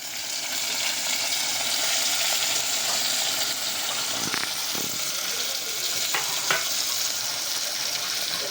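Tomatoes and green onion frying in a pan over a desi chula, giving a continuous bright sizzle with a few soft clinks of stirring, close and fairly loud, with no talk.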